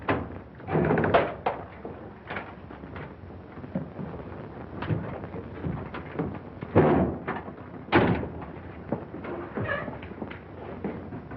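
A door is pounded and forced open in a 1942 Brooklyn drama: several heavy, irregular thuds and bangs, loud and close, over a muffled background with no talking.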